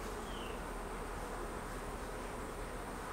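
Honey bees buzz in a hive box, a dense, continuous close-up hum with a steady level throughout and no talking.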